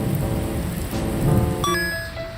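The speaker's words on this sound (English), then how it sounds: "Why is there rain dropping at this one specific patch?" Rain falling in an indie video game, a steady close hiss of drops on a surface, joined near the end by a few bright bell-like electronic tones.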